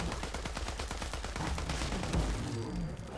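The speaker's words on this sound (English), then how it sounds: "let's check out that XR92 prototype with maxed out automatic damage and the" Rapid automatic fire from the XR92 prototype rifle with an incendiary barrel in Fallout 4, a fast, steady burst of loud close gunshots running for about two seconds before trailing off.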